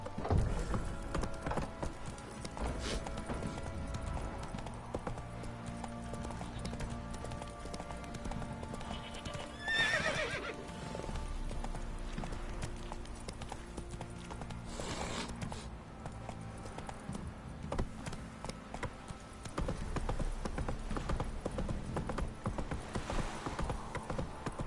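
Roach, a horse in The Witcher 3, gallops with steady clip-clop hoofbeats throughout, a whinny rising briefly near the middle, over constant in-game ambience and music.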